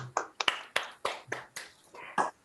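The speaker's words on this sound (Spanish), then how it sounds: "Un aplauso para" Audience applause closing an evening talk, heard as a short run of separate, sharp claps spaced unevenly, fairly close, with no sustained crowd roar.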